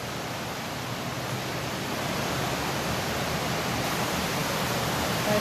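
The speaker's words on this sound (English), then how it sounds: "The gushing of the falls down there." A waterfall gushes steadily inside an underground cave, a dense continuous roar of falling water that stays loud and even throughout with no voices.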